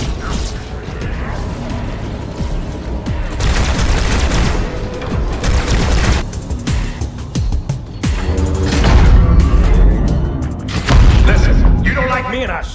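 Gunfire in the Halo video game: sustained bursts of automatic weapons and booming blasts in a loud, chaotic firefight, with shouting voices throughout.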